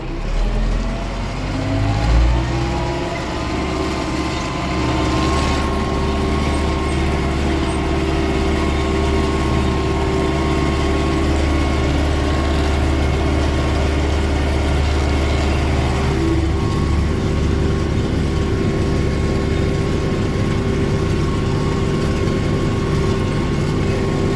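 A heavy MTZ-82 tractor engine pulling a homemade plough drones steadily and loudly at a constant labouring pitch throughout, with no talking.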